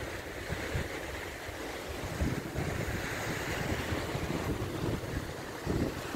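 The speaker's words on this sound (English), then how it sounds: "It's the beach down there." Surf washing against a beach far below a high vantage point, a steady broadband roar of waves mixed with gusting wind buffeting the microphone, continuous for several seconds with no voices.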